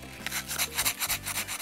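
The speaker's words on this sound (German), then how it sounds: "schleife ich jetzt einfach ein bisschen schön die Seiten ab" A short run of rhythmic rubbing strokes as the sides of an object are sanded down, close and fairly quiet, with no voices.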